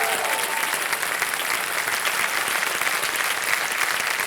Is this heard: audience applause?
yes